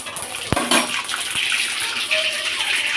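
Toor dal is washed in water, with a close, continuous splashing and swishing of water and grains, a few sharp knocks against the vessel, and no voice.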